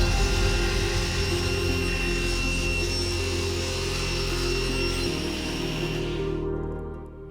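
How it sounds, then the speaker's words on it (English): A saw cuts steadily through a wooden board for charcuterie boards, a continuous close rasping drone that runs for several seconds before trailing off. "And now cutting the board in half to make space for the first weave to be put in"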